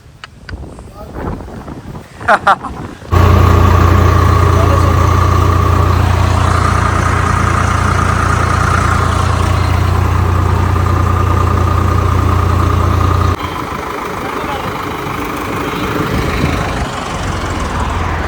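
A Swaraj 855 or Arjan 605 tractor engine idles loud and steady for about ten seconds, then drops to a lower, rougher hum, with voices and handling noise before it starts.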